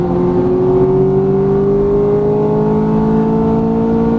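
Ferrari F430 accelerating on a race track, its engine note rising smoothly and steadily in a loud continuous whine, close up and without talk.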